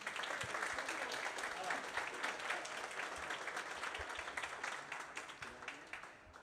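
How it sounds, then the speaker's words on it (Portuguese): Steady crowd applause at a football event's acknowledgements, many hands clapping at once with some voices beneath, gradually thinning toward the close. "Palmas para eles"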